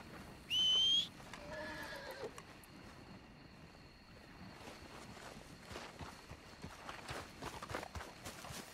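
A horse in Red Dead Redemption 2 gives a loud, short whinny near the start, followed by hooves walking and water or ambient game sounds, with no voices over it.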